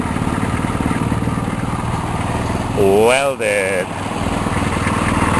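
A NOMA snowblower engine runs steadily and loudly throughout, a continuous mid-range drone with someone briefly talking over it near the middle.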